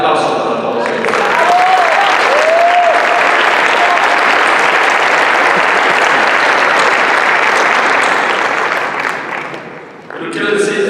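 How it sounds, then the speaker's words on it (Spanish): Loud, sustained applause from a large crowd, steady for several seconds before tapering off near the end, with brief voices at the start. "un aplauso para todos ellos."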